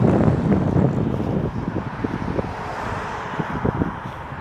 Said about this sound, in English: So you can hear the noise of the traffic